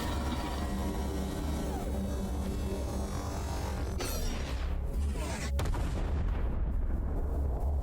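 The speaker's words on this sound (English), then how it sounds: "Big boy cannon, huh?" A big cannon turret fires in the space shooter game Everspace 2, a dense, loud, continuous rumble of heavy booms with sharper blasts cutting through near the end.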